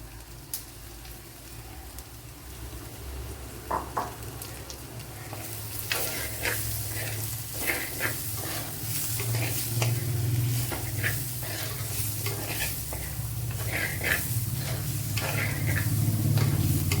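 Medium onions tossed into a hot pan for a kovakka (ivy gourd) dish sizzle and fry steadily, with occasional stirring scrapes over a constant low frying hiss that slowly grows louder.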